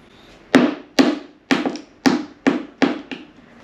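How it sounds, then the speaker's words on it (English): A hammer taps wooden pantry cabinet parts into place with six sharp, evenly spaced knocks about half a second apart, close and loud, each ringing briefly against a quiet room. "Take this hammer and I want you to tap that so it goes in."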